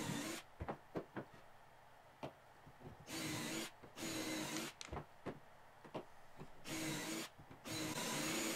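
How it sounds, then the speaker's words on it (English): A power drill whirs in repeated short bursts, boring pocket holes into pallet wood boards with a pocket-hole jig, brief pauses between, close and clear, no talking. "Now I'm going to drill the pocket holes using my crate jig."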